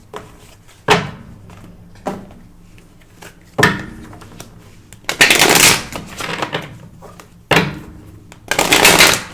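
Tarot cards being shuffled by hand in separate bursts, each a sharp papery riffle or slap followed by a short pause, with a couple of longer, denser shuffling runs near the end.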